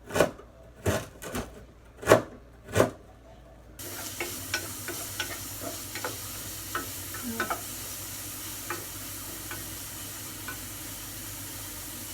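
Mapo tofu being stir-fried for dinner: a few loud, separate clanks of a utensil against the pan open the sequence, then a steady close sizzle carries on with lighter scraping and stirring taps.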